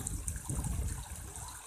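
Floodwater from a burst pond rushes steadily across flooded roads, a continuous close gush and churn of moving water with no voices.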